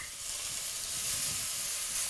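Smoked bacon lardons sizzle steadily in a hot pan, a dense, even hiss that holds at a constant level throughout, with no voices.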